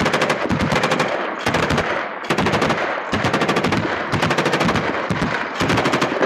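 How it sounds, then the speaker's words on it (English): Ukrainian soldiers fire back during a Russian-led attack on Zaytseve, with loud, close machine-gun bursts in long rapid strings broken by brief pauses. No voices are heard. "Ukrainian soldiers fire back."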